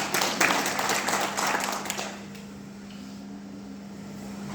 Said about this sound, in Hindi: एक जोरदार तालियां मित्रों